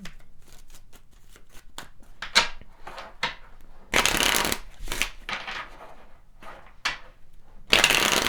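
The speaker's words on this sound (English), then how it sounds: "Let's pull some additional cards." Tarot cards are shuffled and pulled from the deck in crisp riffling bursts and quick flicks, with two longer shuffle runs standing out, close and fairly quiet with no talking.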